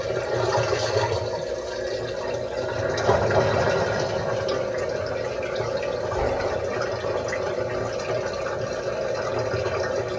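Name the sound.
washing machine draining water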